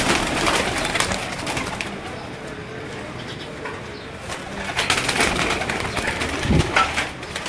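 Pigeons kept by a fancier coo softly amid a crowded loft, with bird calls, occasional wing flaps and a busy background.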